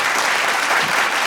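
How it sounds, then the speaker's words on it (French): An audience at a fashion show breaks into steady applause, a dense, even wash of many hands clapping that holds at a constant level throughout. "On l'applaudit bien fort, on l'encourage."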